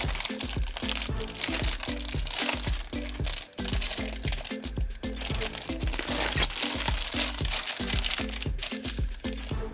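Plastic foil wrapping on a De Agostini Polonez 1500 model kit issue is peeled and crumpled, giving continuous close crinkling and crackling over a steady rhythmic music bed.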